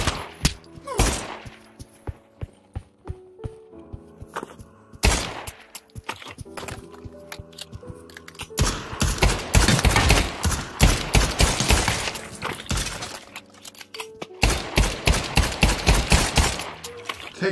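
Gunfire in the VR shooter Pavlov arrives in scattered single shots at first, then dense rapid volleys and bursts, loud and close, with short quiet gaps between.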